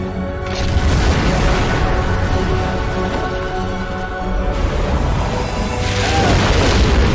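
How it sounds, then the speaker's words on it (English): A dynamite explosion in the Christmas horror film Rare Exports booms and rumbles loudly for several seconds. The roar is broad and sustained and swells again near the end. "And this is that explosion David was talking about."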